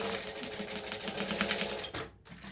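Sewing machine stitching up a pocket on a Raggabrash sewing project, a close, steady whirring hum with fast needle pulses for about two seconds before stopping.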